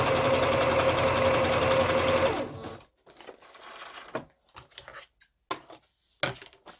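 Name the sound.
sewing machine sewing a zigzag stitch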